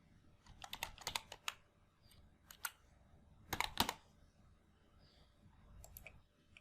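Faint, close keystrokes on a computer keyboard while entering text in an Excel spreadsheet, coming in irregular short bursts of clicks separated by quiet pauses, with no talking.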